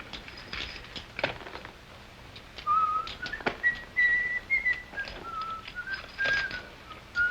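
A person whistles a short, wavering tune at moderate loudness against faint background noise.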